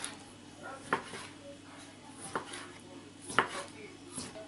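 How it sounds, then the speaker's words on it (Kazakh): A knife thinly slices raw chicken on a board, producing a handful of sharp, separate cutting knocks at an uneven pace against a quiet kitchen background. "Содан кейін жұқалап тураймыз."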